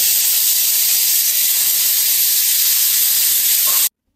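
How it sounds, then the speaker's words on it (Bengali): A pressure cooker on a gas stove vents steam in a loud, continuous close hiss that holds steady for several seconds, then cuts off abruptly. "আর এখন আমরা প্রেসার কুকারের ঢাকনাটা কিন্তু বন্ধ করে দিব, আর গ্যাসটাও অন করে দিব।"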